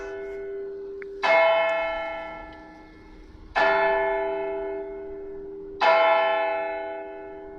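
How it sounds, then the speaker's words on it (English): Church bells ring out in three big strikes, each a loud clang with a long humming decay that fades before the next, with no voices present. "There's the bells."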